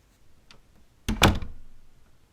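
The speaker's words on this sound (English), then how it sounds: "You really should lock that door, you know?" A door is pushed shut indoors with a single close, solid thunk following a few faint preceding movements, then a short fading tail into quiet.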